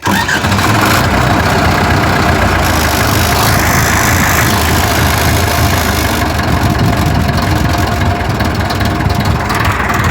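A vintage 1991 Ursus C-360 tractor engine idles loudly and steadily close by with a continuous rumbling chug and no other sounds.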